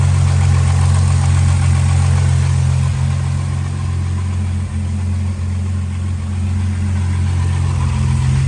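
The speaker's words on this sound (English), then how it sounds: "Certainly hear a knock rattle." A neglected skid car's engine idles up close, a loud steady low rumble carrying a faint rough knock rattle underneath, with no speech.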